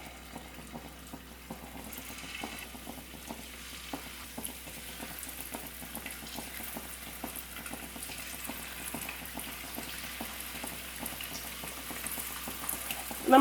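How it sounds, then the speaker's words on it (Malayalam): Battered chicken pieces deep frying in hot oil give off a low, steady sizzle and bubbling crackle, faint and continuous, with a louder clatter at the very end. "ഇനി ചൂടായിട്ടുള്ള എണ്ണയിൽ ഇട്ടിട്ട് നമുക്കിത് ഫ്രൈ ചെയ്തെടുക്കാം കേട്ടോ"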